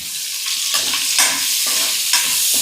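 Two sliced onions frying in hot oil with cumin in a pan, a steady loud sizzle broken by rhythmic scraping strokes of a spoon stirring them, close up with no talking.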